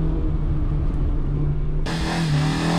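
Daihatsu Applause car accelerating through the gears on a lap-timing run, a steady mid-pitched engine drone climbing in pitch before a sudden brighter, louder surge as it pulls harder.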